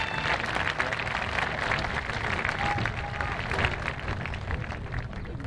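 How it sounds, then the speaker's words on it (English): Graduation audience at a high school ceremony applauds continuously, a dense steady wash of many hands clapping with crowd murmur, no break across the whole span. "So if you would please join me in a round of applause for your family who is here to support you."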